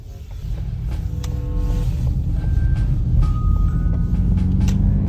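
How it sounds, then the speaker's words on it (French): A low simulated V8 engine rumble from a Ford Mustang Mach-E electric car swelling steadily inside the cabin, with faint higher tones and clicks over the droning hum. "Ah, c'est le son du V8 ça, non?"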